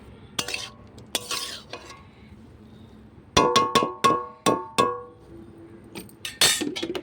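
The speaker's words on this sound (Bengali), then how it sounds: "এবারে শাকটা নেড়ে দেবো।" Metal spatula stirring white leafy greens with potato and peanuts in a pan, giving a run of sharp, close metallic clanks and scrapes in an uneven rhythm, several rapid strikes bunched in the middle, with no talking.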